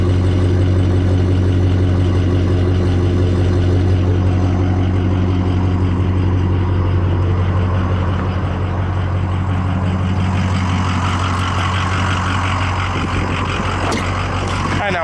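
A lifted 2005 Ford F250 Super Duty Lariat with a Powerstroke diesel runs steadily nearby, its deep, even drone continuing for the whole stretch with faint clatter on top.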